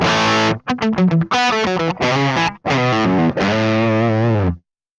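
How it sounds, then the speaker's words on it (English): A distorted electric guitar plays a short riff through a Mesa Boogie Mark IIC+ amp, with a thick, dark, rolled-off, muffled fuzz tone and sustained chords. "when that's dialed back, you get that sort of more rolled off, fuzz-ish type distortion"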